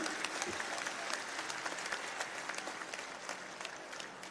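Crowd applauding at a political rally speech in Rajasthan, a steady dense wash of clapping that holds moderately loud and even for the whole stretch, with no voice over it.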